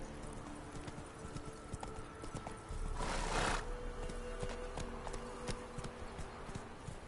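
Roach the horse gallops in The Witcher 3, a steady clip-clop of hooves running continuously with a brief whoosh partway through, close and fairly loud over faint game ambience.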